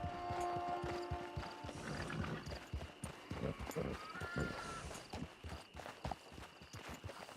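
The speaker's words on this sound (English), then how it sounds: "It's your horse." Horse hooves clip-clop in steady walking rhythm across the Red Dead Redemption 2 open world, moderately loud and close under a bed of game ambience and faint music, with a brief whinny-like tone mid-way.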